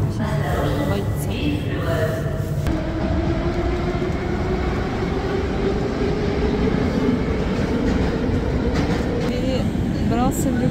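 A Moscow metro train rumbles steadily close by, a broad loud roar with a rising whine as it moves through, carrying on throughout without talk.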